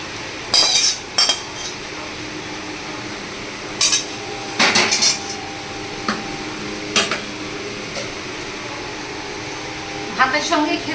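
A pot of home-style sour curry made with prawns, pumpkin, hog plum, potato and okra is lifted off the stove, giving several loud metallic clanks and scrapes over a steady background hum.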